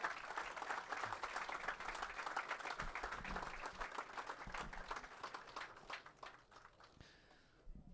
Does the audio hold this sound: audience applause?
yes